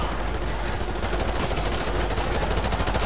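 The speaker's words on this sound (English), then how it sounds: "Don't get in the way of my bullets. Because I will shoot you." Rapid automatic gunfire from Call of Duty Modern Warfare 2, a loud, dense stream of machine-gun shots with continuous crackling bursts filling the whole stretch, no talking.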